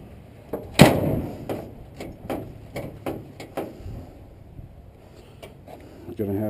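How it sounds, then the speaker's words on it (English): A furnace door being readjusted bangs with one loud close slam followed by a series of sharper knocks and rattles at irregular intervals, with a voice speaking between them. "Gonna have to readjust this door."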